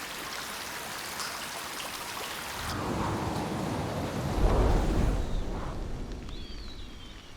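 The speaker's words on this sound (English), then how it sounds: "Water drips, trickles and pours everywhere." Steady watery wash of dripping and trickling inside a cave, growing into a louder rushing pour midway, with no voices.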